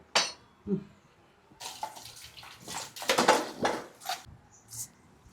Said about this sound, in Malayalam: ഇച്ചിരി വെള്ളം കൂടെ ചേർക്കണം